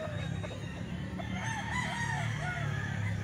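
A Pumpkin Sweater gamefowl rooster crows once with a drawn-out, wavering call, heard moderately close over a steady background hum, with other fowl clucking faintly and no talking.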